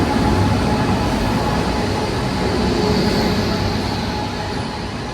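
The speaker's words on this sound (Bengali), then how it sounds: "10104 সেই বিখ্যাত ফুড কুইন মান্ডবী এক্সপ্রেস এসে পৌঁছলো মডগাঁও স্টেশনের 1 নম্বর প্ল্যাটফর্মে" The 10104 Mandovi Express pulls into platform 1 at Madgaon station, a loud steady rumble of rolling coaches and wheels on rail that fills the whole stretch and eases slightly toward the end.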